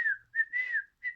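A person whistles to imitate a monkey calling the others: a few close, clear whistled notes, one long and wavering, with short gaps between them.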